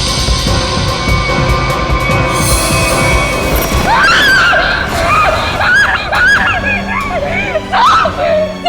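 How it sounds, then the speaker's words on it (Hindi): A woman screams loudly and at length, her shrill, wavering cries rising and falling over a busy background of other noise, with no words spoken during the scream. "इतनी जोर से क्यों चिल्ला रही है?"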